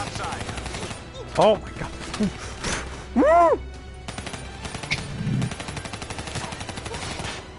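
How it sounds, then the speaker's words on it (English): Gunfire in the Black Ops 3 story campaign comes as rapid, rhythmic automatic bursts alongside louder game effects, with a voice exclaiming briefly over the action. "I shot him like 500 times, point blank, and he didn't die"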